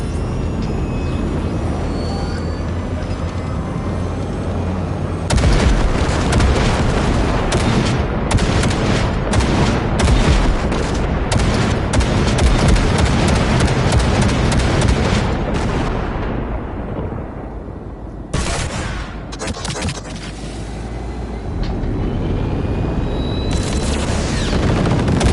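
Sustained heavy gunfire in Cyberpunk, shots pounding at rusted wrecks in a scrapyard target range east of camp, loud and continuous with booming bursts, a brief lull near the end before firing resumes.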